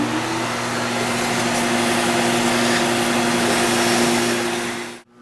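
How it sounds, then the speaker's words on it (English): A vacuum cleaner runs steadily and loudly up close with a constant whining hum, used during work on a corroded expansion tank, then cuts off abruptly at the end. "All right, let's get the vacuum here."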